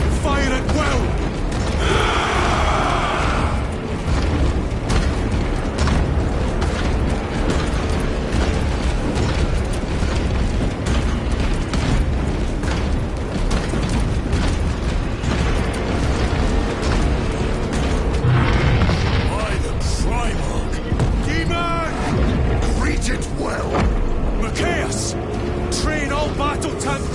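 Massed weapons fire and explosions rage in Warhammer 40k Space Marine 2, a constant loud wall of booming blasts, mechanical clatter and rapid shots filling the whole stretch, with shouted voices over the battle.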